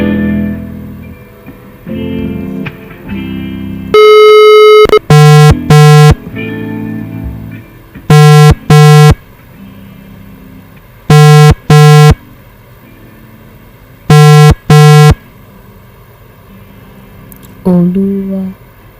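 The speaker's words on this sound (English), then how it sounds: "Please help me call Oluwabukolami and read this message to her." A telephone ringback tone plays while calling, with loud repeated pairs of electronic tones separated by pauses, preceded and followed by talking.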